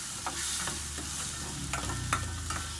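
A tomato-based mussel dish is sautéed and stirred in a pan, producing a steady sizzle broken by scraping utensil strokes and small clinks, close and moderately loud with no voices.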